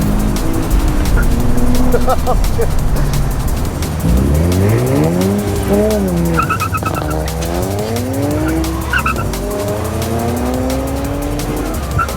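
A car launches hard with traction control switched off at a drag strip, its engine revving loudly through rising gear sweeps while tires squeal and skid, close and sustained for several seconds.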